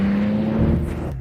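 A BMW M3 Touring's engine and exhaust give a loud, close, steady drone with a deep humming tone that shifts slightly as the note changes.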